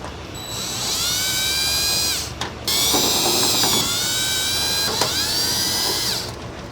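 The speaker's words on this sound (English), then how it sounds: "We're going to start with some screws down here at the bottom using a T20 torque bit" A power driver with a T20 Torx bit backs screws out of the lower front fascia of a Volvo XC90, whining in two close bursts with a brief pause between them.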